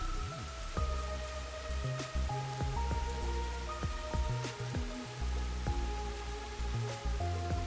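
Rain falls steadily in Master Detective Archives: Rain Code, a constant patter running beneath layered game music with sustained tones and low pulses.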